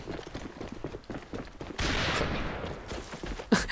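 An AK rifle fires in the online shooter A.V.A, with rapid bursts of game gunfire, dense and loud, that rise into a sustained barrage partway through.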